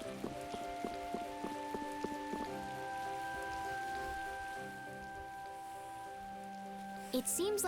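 Rain in the video game Tales of Vesperia, a steady even hiss of falling rain heard throughout, with tonal game music layered over it and a brief sharper sound near the end.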